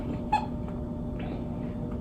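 A newborn identical twin, born early at 32 weeks, gives one brief high squeak near the start against a steady background hum.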